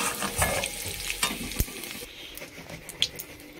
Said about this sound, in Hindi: मेरा लाल चिंगड़ी हो चुका है, फ्राई अच्छे से कर लिया।